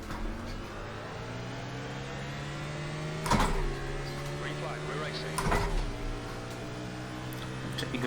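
Simulated NASCAR Cup Series race car at Phoenix in iRacing, engine droning steadily with two sharp upshifts where the pitch drops and rises again, a voice talking over it.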